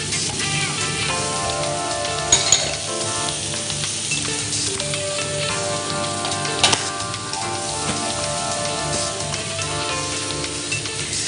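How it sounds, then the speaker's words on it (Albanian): Shrimp frying in a pan give a loud, continuous crackling sizzle, with a couple of brief clatters from stirring and faint music underneath. "Shtojmë dhe kakalecat, jo?"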